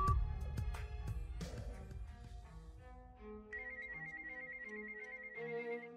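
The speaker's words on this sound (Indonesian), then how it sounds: "Berdering lagi." A telephone ringing in a tense drama scene, an electronic ringtone with repeated melodic tones that starts after a thudding musical opening and carries on steadily, close and clear.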